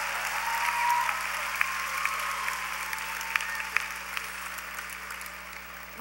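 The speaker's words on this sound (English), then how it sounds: "Let's applaud our College of Engineering and Information Technology graduates." Continuous crowd applause for engineering and information technology graduates at a university commencement, even and sustained with a few sharper individual claps standing out, heard from a distance in a large hall.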